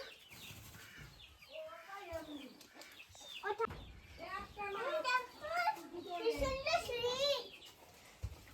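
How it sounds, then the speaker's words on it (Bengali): Ducks and chickens cluck and squawk in a small village yard in the Andamans, fairly close, mixed with children's voices and chatter. "তোমার হাঁস মুরগি পাগল হয়ে গেছে"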